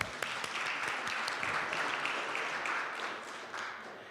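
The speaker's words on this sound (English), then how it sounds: "Let's do a round of applause for that." Applause from an audience gathered in a courtroom for a hybrid afternoon program, steady broadband clapping sustained for about four seconds at a moderate, slightly distant level with no talk over it.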